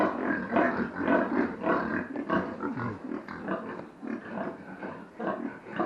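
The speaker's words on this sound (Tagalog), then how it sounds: "At titingnan rin natin ang mga baboy." Farm pigs, a boar and a sow, grunt and squeal close by in a continuous rough chorus of snorts and harsh cries.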